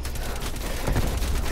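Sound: AK rifle firing in a video game

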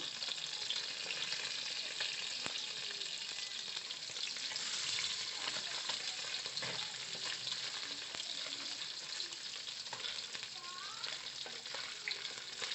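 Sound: fish frying in hot oil in a wok

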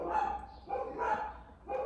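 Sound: dogs barking

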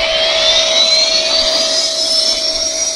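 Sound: CRJ-1000 jet engine plane in a phone flight game

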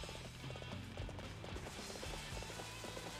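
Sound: horse hooves running in video game Warriors Orochi 3

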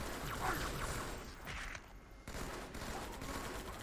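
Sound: gunfire in the video game Halo 2

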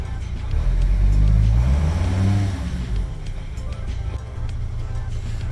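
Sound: Mercedes Sprinter van engine accelerating

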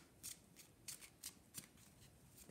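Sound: tarot cards being drawn and handled

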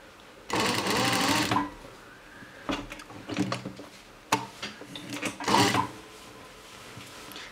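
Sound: sewing machine sewing a jacket shoulder seam

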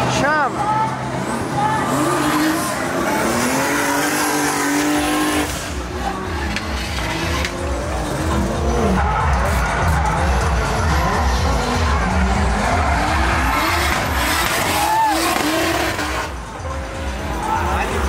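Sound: car drifting with tire squeal

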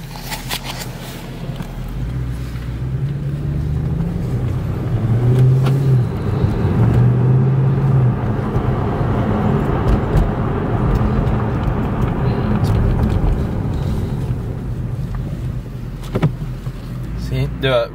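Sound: 2012 Mercedes C63 AMG engine while driving, windows down

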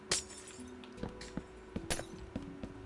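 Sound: glass block breaking in Minecraft video game

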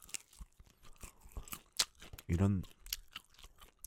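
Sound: eating crunchy fried chicken, mukbang

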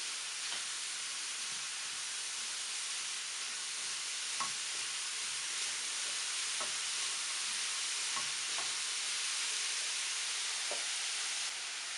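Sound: apples frying and stirred in pan

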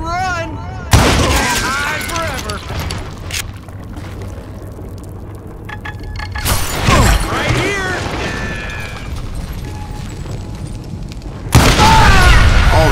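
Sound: dynamite explosions and gunfire in video game Call of Juarez Gunslinger

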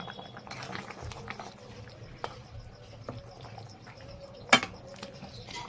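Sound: stirring fish curry in a pan after adding garam masala

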